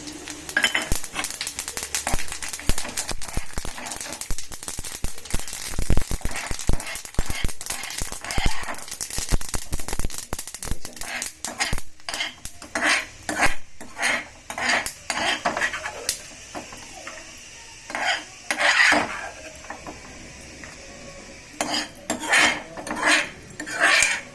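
Peanuts and sesame seeds fry in a little oil in a pan, with dense crackling and sizzling mixed with repeated scraping and clinking of a metal spatula, fairly loud and close.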